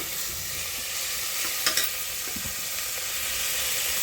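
Vegetables fry in a pan with salt and turmeric, a steady close sizzle with a few scraping stirs partway through.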